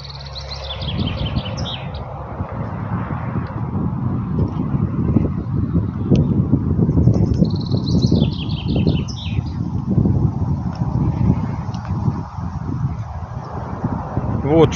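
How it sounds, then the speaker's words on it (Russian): Birds chirping in short trilled bursts on a wooded hill at the Inkilä fortified area of the Mannerheim Line, fairly faint above wind buffeting the microphone and footsteps. "Сейчас здесь красиво, птички поют."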